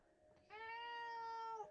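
A cat gives a single drawn-out meow, rising then holding steady, faint and on its own in a quiet room.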